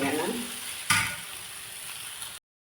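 Tomato and onion masala frying in oil for a fish tawa fry crackles in a loud, even sizzle, broken by one clattering stir of the pan before the sound cuts off.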